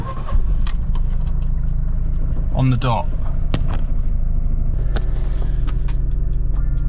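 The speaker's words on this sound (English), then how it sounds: "I'm going to try it again and we'll just see if it starts up" A car engine damaged by oil starvation cranks and catches with a low, steady rumble that grows heavier and continues under a brief bit of nearby talk.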